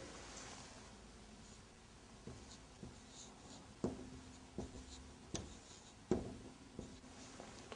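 Chalk or marker strokes on a classroom board during an Arabic lesson: a run of short scratchy taps and strokes, quiet and close, with no talking.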